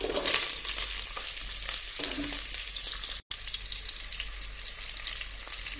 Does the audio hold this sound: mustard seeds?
yes